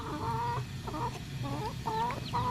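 Several hens cluck and murmur close by in a farmyard, with overlapping calls in short rhythmic bursts over steady background noise.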